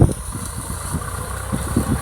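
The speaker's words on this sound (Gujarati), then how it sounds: "ટ્રેક્ટર હાઠીઓ કાઢે છે।" A tractor engine runs at close range while pulling out cotton stalks in a field, giving a rough, steady low rumble with uneven throbbing surges, and no voices.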